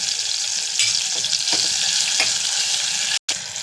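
Tomato and ginger-garlic paste sizzling in a hot pan for a capsicum pulao, a loud continuous frying hiss with a few soft stirring scrapes and a brief cut near the end.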